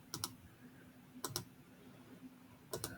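Computer mouse clicks in CAD design software, three quick double-click pairs spaced about a second apart, crisp and close over quiet room tone.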